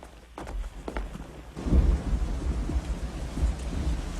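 Thunderstorm with steady rain in an animated film scene, a low rumble of thunder rolling in under a dense, continuous wash of rainfall that grows louder partway through.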